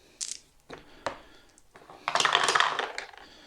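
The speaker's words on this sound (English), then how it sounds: "So we roll those 3 dice again." Three dice tossed during a turn of the board game Dawn of Empire, with a few sharp clicks followed by a burst of clattering as they tumble and settle on the table, close and clear with no talk.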